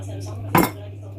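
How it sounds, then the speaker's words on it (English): A metal whisk clinks once against a mixing bowl as it is swapped for a spatula while making a three-ingredient chocolate cake, a single short, close metallic knock over a quiet kitchen hum. "So I'm gonna change this whisk with a spatula"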